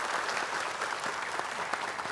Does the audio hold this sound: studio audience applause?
yes